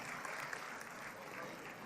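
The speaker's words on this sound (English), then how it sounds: "Let us give a big round of applause for the newly launched center." Audience at an ASEAN event applauding a newly launched center, a dense, even wash of clapping at moderate-to-faint level with no clear pauses.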